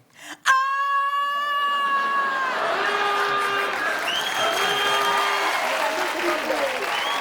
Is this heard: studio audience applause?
yes